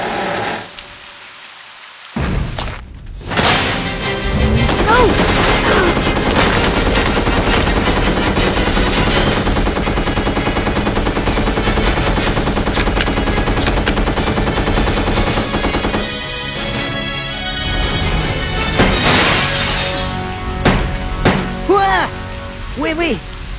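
Loud, sustained gunfire rattles through a zombie video game, a dense continuous barrage with crashing, shattering bursts running under the action before tapering into scattered sharper hits near the end.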